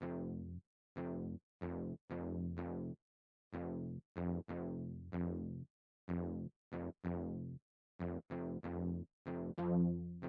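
Short, punchy synth bass notes pluck in a quick syncopated rhythm with brief gaps between hits, clean and fairly quiet, with no voices.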